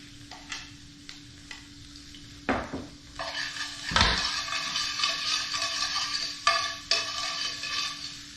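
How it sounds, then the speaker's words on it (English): Garlic sautés in rendered pork fat in a pan, a soft continuous sizzle broken by sharp scrapes and clinks of a utensil stirring against the metal, close and fairly quiet with no talking. "So you're really just going to saute this garlic"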